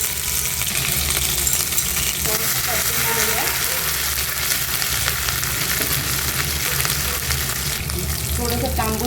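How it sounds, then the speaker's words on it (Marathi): Cumin with ginger and garlic paste fries loudly in two spoons of oil as the base for a moong dal, spinach and brinjal curry, a dense continuous sizzle with occasional stirring scrapes. "दोन चमचे तेल जिरं आलं आणि लसूणची पेस्ट खेचून घेतलं"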